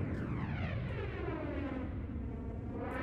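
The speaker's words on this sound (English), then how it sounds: "Wait, is that a plane?" An airplane passes in the horror video game Unhinged 2 as a steady, fairly faint rumbling drone of an aircraft engine with a gently shifting pitch that runs through the whole moment.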